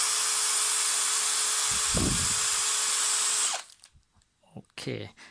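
A Bosch GSB 18 cordless drill in hammer mode whines loudly and steadily for about three and a half seconds, then cuts off, leaving brief scattered knocks and handling noises.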